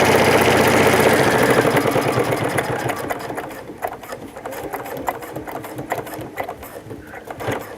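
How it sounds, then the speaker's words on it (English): Sewing machine stitching across a zipper on a custom bag, a fast loud mechanical whir that slows into separate, uneven stitch clicks as the needle works carefully through the teeth. "Now be really careful stitching across the zipper."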